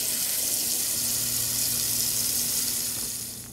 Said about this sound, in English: I'm gonna get back with you after I finish wash the fish off good.